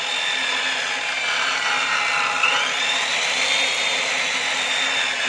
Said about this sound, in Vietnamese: Máy anh em mà nghe cái tiếng máy chạy là biết ngon rồi.